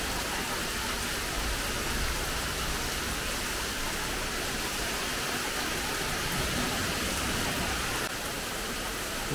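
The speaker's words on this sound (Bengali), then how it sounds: "প্রচন্ড বৃষ্টি হচ্ছে। বিশাল বৃষ্টি হচ্ছে।" A dense, unbroken roar of heavy rain pours down, loud and steady for the whole stretch.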